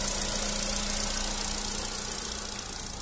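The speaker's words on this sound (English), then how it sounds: "engine sound very nice and smooth" A Nissan Qashqai 1.6 petrol engine idles evenly with a smooth low hum and faint vibration, steady throughout and slowly fading a little toward the end.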